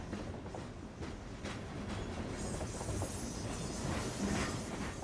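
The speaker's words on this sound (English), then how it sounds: "the sound of trains coming and going has some kind of meaning to it" A train rolls past on the tracks with a continuous rumble and rhythmic wheel clatter, plus a light hiss, steady and fairly close with no voices.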